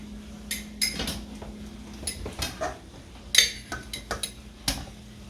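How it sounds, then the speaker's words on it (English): Fried hamburger being spooned into canning jars gives irregular metallic clinks and scrapes of utensil against glass and pan, close and fairly crisp over a faint steady hum. "Okay, I'm putting my fried hamburger into cans now."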